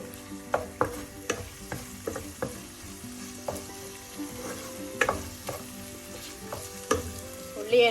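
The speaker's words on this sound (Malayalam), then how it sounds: "5 ചെറിയ കഷ്ണമാക്കിയ കുടംപുളി അതും കൂടെ ഈ ഓയിലിൽ കിടന്നൊന്ന് മൊരിയട്ടെ." Five small pieces of kudampuli (Malabar tamarind) and onions fry in oil for a Kerala white tuna fish curry, giving a steady close sizzle punctuated by repeated sharp utensil clinks and scrapes against the pan.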